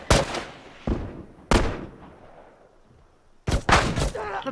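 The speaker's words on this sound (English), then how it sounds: "Shoot, just shoot him." Gunshots in The Last of Us multiplayer, four sharp loud cracks in uneven succession, each decaying over about a second, the last pair fired close together, with no talking over them.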